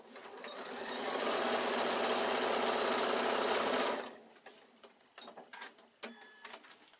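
A sewing machine stitches a quilted evening bag in one loud, steady whirring run lasting about four seconds, then stops, leaving quieter handling clicks and rustles.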